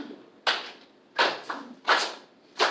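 Hand claps in a rhythm during a group drumming playshop, four sharp, distinct claps with an extra softer one between the second and third, in an otherwise quiet room.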